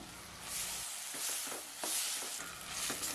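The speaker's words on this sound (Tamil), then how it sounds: "ஒரு 2-3 நிமிஷம் நல்லா குடைமிளகாவை வதக்கி விட்டுக்கிட்டாலே போதுங்க." Capsicum sautéing in a pan for chutney: soft hissing sizzle with bursts of stirring as pieces are turned, fairly quiet and close.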